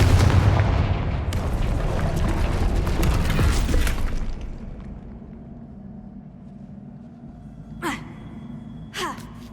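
Confringo fire spell in the Hogwarts Legacy game, a loud rumbling blast that roars for about four seconds and fades into a low hum, followed by two brief sharp whooshes.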